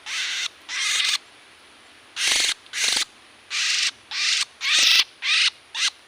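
An oriental magpie-robin (kacer), an old wild bird, calls outdoors in about ten clear, bright bursts of song with short gaps between them, close and fairly loud, with no talking.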